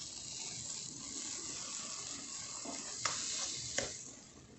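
Sugar poured into a pot already on the stove, the first step of a creamy jackfruit dessert, a soft continuous grainy hiss with a couple of sharp scraping ticks near the end, quiet and close.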